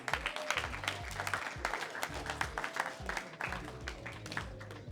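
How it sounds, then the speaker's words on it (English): Graduation audience applauding a speaker, continuous rhythmic clapping with voices and cheers mixed in, sustained across the whole stretch. "Get a brother another round of applause."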